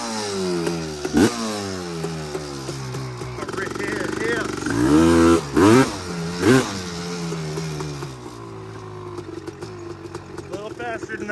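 Honda TRX250R ATV engine revving and buzzing while being ridden, loud and close with rising and falling pitch as the throttle changes, and brief louder bursts partway through.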